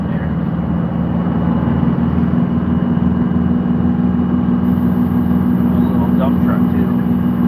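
A dump truck engine drones steadily and loudly at close range, with a constant low rumble that lasts the whole stretch. Faint traffic sounds can be heard beneath it.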